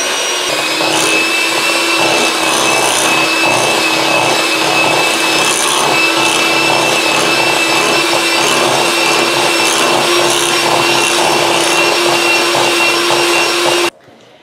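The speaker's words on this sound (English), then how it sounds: "take your mixer and blend them together till it's well incorporated" An electric hand mixer blends brown sugar with other sugar for an apple cake batter, giving a steady, close whirring motor drone that runs for about fourteen seconds and then cuts off abruptly.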